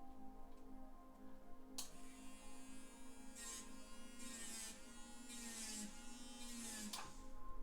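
A rotary tool fitted with a bur drills a pilot hole through the middle of a piece of mother-of-pearl, giving a steady close electric whine with harmonic buzz and brief bursts of gritty grinding as the bit bites into the shell.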